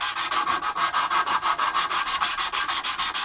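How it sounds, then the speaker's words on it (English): Cloth-backed sandpaper rubs back and forth in a steady rhythm on the wooden heel of a stick dulcimer, close and clear with no voices. "using this cloth-back sandpaper"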